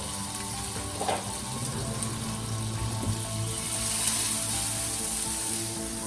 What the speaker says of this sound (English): So then add a little bit of butter, which could cook the steak well.